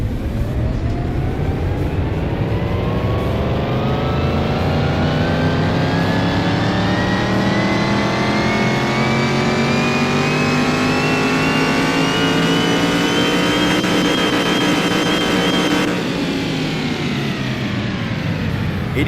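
A car engine on a dyno in Car Mechanic Simulator 21 revs loudly and climbs steadily in pitch for about fifteen seconds, then drops off sharply, with no talking over it.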